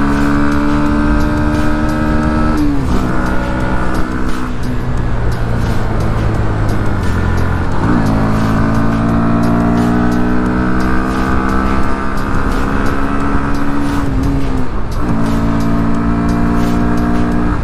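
Motorcycle engine droning loud and close while riding, its pitch rising through each gear and dropping at shifts around three, eight and fifteen seconds, over steady wind rush with no talk.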